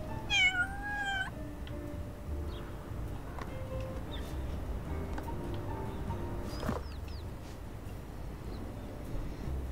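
A cat meows in the video game Little Kitty, Big City, one clear, drawn-out meow at the start, then quieter game ambience with faint chirps and soft tones.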